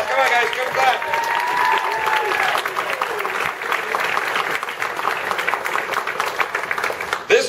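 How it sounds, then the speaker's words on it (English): Applause and cheering from a crowd at a Dragon Con 2013 Falling Skies convention panel, sustained clapping throughout with voices mixed in. "Round of applause. Come on, guys. Give it back."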